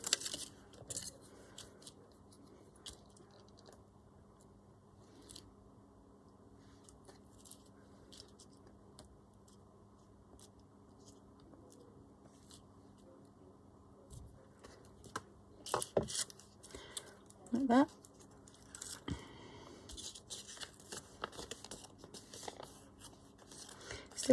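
Scissors cutting paper gems for an envelope make faint snips and crisp paper rustles, close by, growing busier and louder toward the end.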